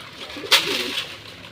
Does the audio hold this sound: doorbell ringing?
no